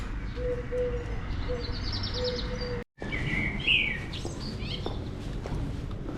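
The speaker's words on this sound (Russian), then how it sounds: "а птички поют" Small birds chirp and tweet in a town in Sombor, Serbia, with a few clear, fairly close calls and a possible pigeon coo over steady street ambience.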